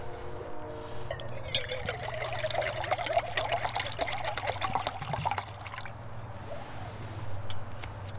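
Hot water pours and trickles onto instant coffee mix with creamer and sugar, a steady close liquid stream lasting several seconds before tapering off outdoors on a cold day.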